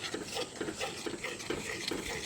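Milk and jaggery mixture stirred in a pan for a traditional Assamese sweet: steady, rhythmic scraping strokes about twice a second, close and continuous, with a soft bubbling wash underneath and no voices.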